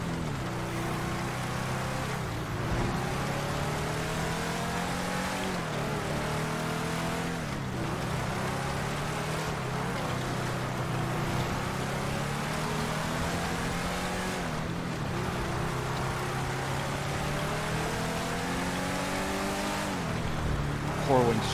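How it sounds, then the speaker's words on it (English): Car engine revving with rising and falling pitch sweeps during a high-speed drift in GTA V, a steady loud roar with tire noise running throughout, repeated gear-like pitch climbs every few seconds. "Drifting at 92 miles an hour."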